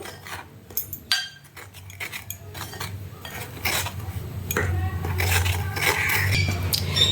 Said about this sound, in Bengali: শুকনো উপকরণগুলো আগে আমি চামচ দিয়ে এইভাবে সবগুলো একসঙ্গে মাখিয়ে নেব বা মিশিয়ে নেব